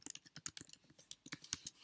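Quick, uneven keystrokes on a computer keyboard as a login and password are entered: close, light clicks in short bursts with brief pauses, and no voices.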